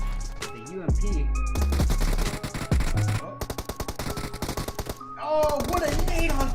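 UMP submachine gun fire in a competitive shooter tournament match: rapid automatic bursts crackle loudly over in-game music and effects, with a commentator talking over the action.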